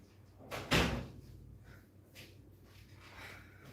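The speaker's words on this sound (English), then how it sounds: "I have to close the door to my room" A bedroom door swings shut with a single solid thump near the start, followed by faint room noise and a soft rustle.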